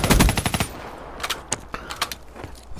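An ARC-7 assault rifle in Black Ops 3 rips off a fast automatic burst, followed by a few scattered single shots and impacts, fairly quiet and without voices.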